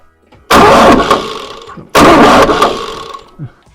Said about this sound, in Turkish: Kontağımızı açıyoruz. El gazını biraz çekiyoruz. Marş yapacağız.